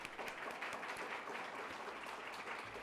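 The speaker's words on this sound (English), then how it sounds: "So let's give him a round of applause first." Faint, steady patter of audience applause at a library talk on Canada's housing crisis, a dense even wash of many hands lasting a few seconds, sounding distant and soft.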